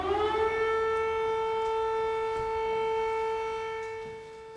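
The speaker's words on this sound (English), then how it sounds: "Every day sirens sound and Ukrainians run underground or for shelter." Air raid sirens wail across Ukraine, one long steady civil defense tone holding and then slowly fading, distant and alone with no voices.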